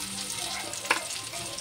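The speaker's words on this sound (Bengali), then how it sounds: "নুন দিয়ে টমেটো পেঁয়াজটা ভাজছি" Tomato and onion fry with salt in a pan, a soft, steady sizzle with one brief stirring clink near the middle.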